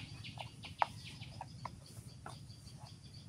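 Quiet, scattered clucks from chickens in a chicken house sound at a distance over a low background rumble, one call briefly standing out.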